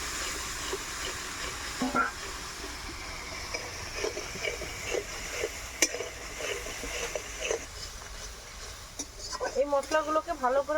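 Tomato, chilli and ginger pastes fry in fennel-seed oil, a steady sizzle broken by rhythmic scraping stirs, with a louder burst of bubbling near the end and a voice talking over the cooking.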